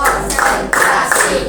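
Students in a class clap together in a patterned rhythm, producing a few short, sharp bursts of claps close by. A teacher's spoken count mixes in with the claps.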